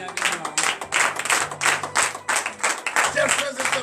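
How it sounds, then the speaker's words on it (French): A church congregation claps steadily in dense, continuous applause during a morning prayer service in Benin, with voices cheering and shouting mixed in throughout. "Veuillez vous lever sur vos pieds et donner de vive acclamation à notre Seigneur."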